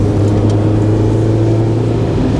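A Honda Civic EK9 on the winding Tsubaki Line mountain road, its engine a steady, loud, close drone with road roar and no clear change in revs.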